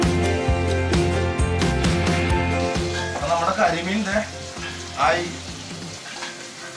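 Curry leaves dropped into smoking hot oil at a toddy shop kitchen, a loud close crackling sizzle that gradually settles while someone talks over it.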